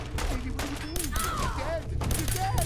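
Bursts of video game gunfire rattle through a dense, busy mix during a livestreamed game, steady and fairly loud, with voices and other game sounds layered over them.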